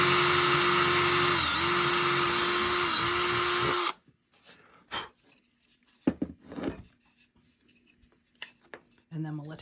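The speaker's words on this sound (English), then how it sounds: "we're just drilling the hole for the ears" A power drill whines loudly and steadily while boring a hole in a wooden dog lamp, its pitch dipping briefly twice under load, then cuts out abruptly, leaving scattered light tapping and handling noises.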